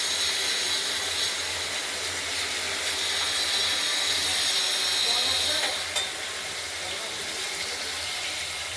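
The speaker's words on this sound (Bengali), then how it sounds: "আলুগুলো ভাজা হতে থাকুক" Cut potatoes fry in hot oil with tempered spices for a shol fish curry with potatoes and tomatoes, giving a steady, close sizzling hiss throughout with one small click near the end.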